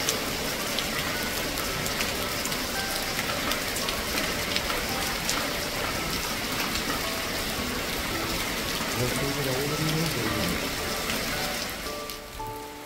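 Heavy rain pours down in Shillong, a dense, steady hiss and patter that fills the whole stretch without a break and fades slightly at the very end.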